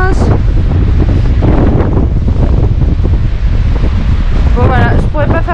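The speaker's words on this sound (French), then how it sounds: "il y a plein de vent" Heavy wind buffeting the microphone beside the Horse Tail waterfall at Lake St Clair in Australia, a loud constant roar with rushing water beneath, and brief voices in the background.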